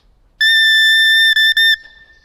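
The double reed of a soprano shawm, blown on its own without the instrument body, gives a loud, piercing, whistle-like squeal held for over a second, with two brief breaks near the end and no talk.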